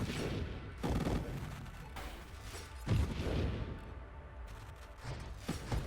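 Ship shots exploding in the space shooter game Nova Drift, a rapid scatter of muffled booms and crackling bursts over several seconds, moderately quiet and continuous.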